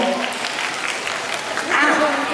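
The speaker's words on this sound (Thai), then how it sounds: "ขอเสียงปรบมือกับท่านผู้บริหารของเราทั้ง5ท่านด้วยนะครับ" Applause from an audience at an event at a shopping mall, a steady burst of clapping for five company executives, swelling slightly near the end.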